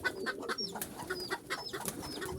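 Pigeons of mixed breeds coo in a loft alongside chickens, giving low, repeated throaty calls over a busy background of bird chatter and rustling, fairly close and steady throughout.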